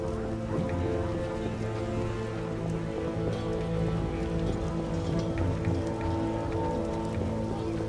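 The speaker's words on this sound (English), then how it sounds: "It rains and it pours." Steady rainfall in the video game The Witcher, a dense, constant patter of drops on surfaces with a low background hum and no voices.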